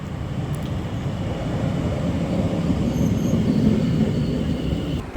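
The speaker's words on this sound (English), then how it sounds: "and a train just coming in." A train pulls into Frinton-on-Sea station, giving a steady rumbling roll of wheels on rail that builds slightly, with faint high squeals from the wheels above the continuous low noise.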